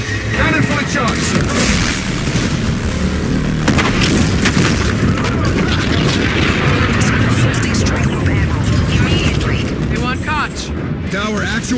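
Spaceship cannon fire in Call of Duty: Infinite Warfare, heavy booming blasts and rumbling explosions crowding together in a loud, dense barrage, with game radio voices talking over the battle.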